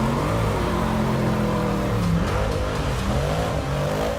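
The Batmobile's rally-style engine roaring steadily while driving, a loud continuous mechanical drone with shifting pitch as it revs, close and unbroken.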